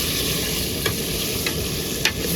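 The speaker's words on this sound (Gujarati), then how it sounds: "તો આ રીતે અમારે બટાકાને છે ને તેલમાં આપણે ફ્રાય કરવાનું" Potatoes frying in hot oil, a dense, steady sizzle throughout with a few faint clicks from a utensil, close and loud, no talking.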